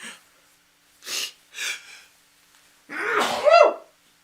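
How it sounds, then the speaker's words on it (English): A few sharp breathy inhales, then a loud, forceful sneeze close to the microphone, ending in a brief vocal cry. "You know how sneezes come in pairs."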